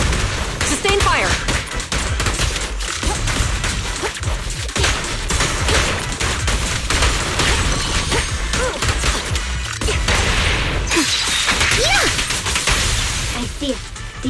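Sustained gunfire in the Zenless Zone Zero video game, a dense loud barrage of shots, impacts and whooshes running continuously with game effects and voices mixed in.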